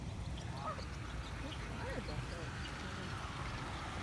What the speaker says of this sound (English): This big old duck, he's fishing.